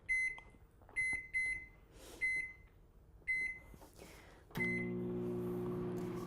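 A microwave oven heating cake pop coating gives a series of separate high electronic beeps, then a door clunk and a steady low hum as it starts running.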